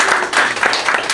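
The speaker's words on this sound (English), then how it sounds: "So let's give them a round of applause for the work that they do." Audience applause at a Brooklyn community center small-business event, a steady dense wash of clapping that fills the whole short stretch at a fairly loud level.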